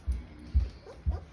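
Young puppies from a litter of six give soft whimpers and yips in three short bursts, close by and fairly quiet, with a hint of voice in the background.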